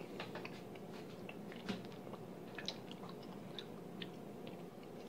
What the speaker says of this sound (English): Be a brief pause while I finish chewing.